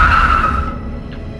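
A car skids hard as it brakes to a stop on a lonely road, tires squealing loudly for a moment before the screech fades into engine rumble, with no talk during it.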